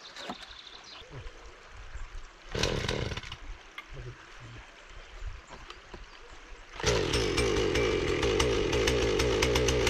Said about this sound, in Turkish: Yok, onu çoğunu testereyle kesmem. Uçlarını keseceğim sadece.